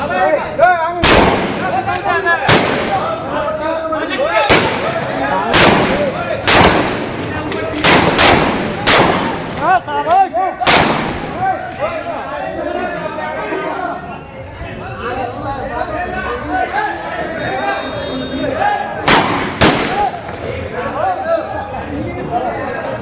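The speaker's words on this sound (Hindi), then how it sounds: "इसमें एक टूल के पास में हर्ष फायर करते हुए दिखाई दे रहे थे" Celebratory gunfire cracks out repeatedly, sharp loud shots in irregular bursts, some in quick succession, over a constant crowd chatter and voices.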